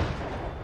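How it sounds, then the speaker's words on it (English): A single deep gunshot booms close and loud, its heavy rumble filling the brief moment within a dramatized shootout scene. "Another gunshot. Closer."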